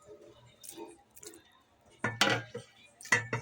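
Chickpeas go into biryani masala in a pan with a few soft, wet squishing plops, quiet and close, in two short bursts.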